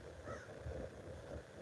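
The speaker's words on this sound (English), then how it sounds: "Hear that crow?" A crow caws outdoors, a few harsh calls against steady background noise, moderately distant, with no talking.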